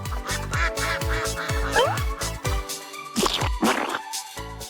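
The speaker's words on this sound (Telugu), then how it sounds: "ఇవి కీటకాలు కాదు, ఇవి బాతులు." Cartoon ducks in a children's animated animal adventure, a rapid series of loud, nasal quacks in a bouncy rhythm, some overlapping, with playful musical tones between them.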